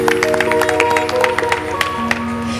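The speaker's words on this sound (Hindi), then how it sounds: "आपको कैकेयी माता के लिए भी तालियां बजानी चाहिए" An audience at a Ram Katha gathering claps, with brisk scattered applause over sustained musical tones from harmonium-like accompaniment.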